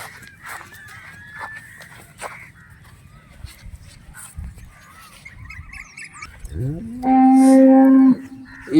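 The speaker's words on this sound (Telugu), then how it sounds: "ఈ ఆవు వచ్చేసి హెచ్ఎఫ్ ఇది" A pregnant black-and-white Holstein Friesian cow gives one loud, drawn-out moo close by near the end, after a stretch of faint farmyard background noise.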